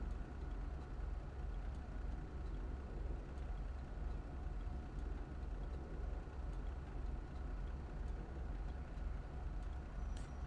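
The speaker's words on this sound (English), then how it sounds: "It's not a very loud car." Car engine running steadily in GTA 5, a faint low idling drone with a constant hum and no distinct revs or changes over the whole stretch, no voices.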